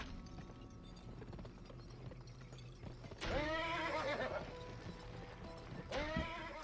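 A horse in the Western video game GUN neighs loudly around the three-second mark, with a second shorter whinny near the end, both rising over constant game music and rumbling background sound.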